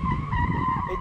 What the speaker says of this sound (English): It definitely drifts.